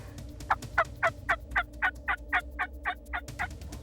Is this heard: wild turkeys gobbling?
yes